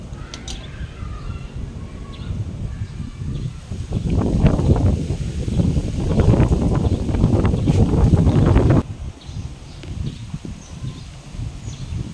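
Steady gusting wind buffets the microphone, a low broadband roar that swells louder midway before easing off, with no one speaking.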